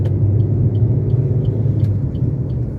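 Car engine rumbling steadily in a slow traffic jam on a South Sumatra road trip, a continuous low drone with a vehicle passing close by.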